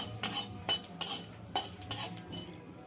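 Coriander, bay leaf and cumin dry-roasted in a pan, with repeated scraping clinks of a metal spatula stirring against the pan and a faint dry sizzle, close and without voices.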